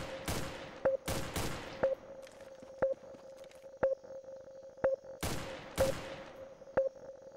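Gunfire in the Counter-Strike video game: several sharp bursts of shots ring out, spread irregularly across the span, while a steady repeating electronic beep ticks about once per second underneath.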